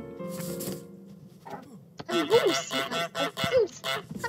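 In Untitled Goose Game, a cartoon goose gives a burst of quick, loud honks in rapid succession after a quieter stretch with faint background sounds.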